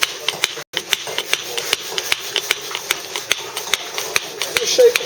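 A chisel struck repeatedly while working a Bath stone moulding, giving a quick run of sharp, fairly even taps close by with a gritty scrape between strikes.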